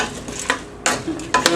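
Lentil and eggplant casserole stirred in a pot, several scraping swishes and light clinks of the spoon against the pot over a soft simmering sizzle, close and moderately quiet.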